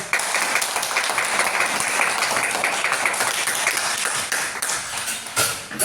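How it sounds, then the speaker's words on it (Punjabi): A crowd claps steadily and loudly for several seconds, the dense applause continuing without pause and tapering slightly toward the end. "ਉਹਨਾਂ ਵਾਸਤੇ ਇੱਕ ਜ਼ੋਰਦਾਰ ਤਾੜੀ"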